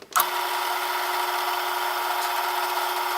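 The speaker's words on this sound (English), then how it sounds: "I've got this spinning the drill bit at a pretty low speed" A drill boring a hole whirs steadily at a low, even speed after a brief start-up, a continuous close mechanical drone with a faint grinding edge.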